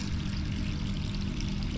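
Water runs steadily in Resident Evil 3 Remake, a constant pouring stream at an even, fairly loud level with no break.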